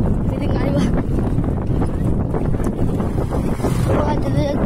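Strong wind buffets the microphone outdoors, giving a constant loud, rough roar across the whole stretch with no letup.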